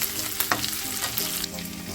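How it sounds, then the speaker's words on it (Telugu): Onions, green chillies and curry leaves fry in a pan for carrot rice, a steady close sizzle with brief scraping stirs over the hiss, no voices. "ఉల్లిపాయలు కొంచెం కలర్ చేంజ్ అయిన దాకా వేగాలి."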